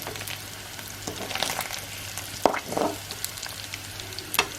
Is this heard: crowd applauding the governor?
no